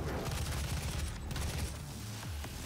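Rapid gunfire from weapons in the Doom video game, a dense continuous barrage of shots and booms throughout with game sound effects layered in.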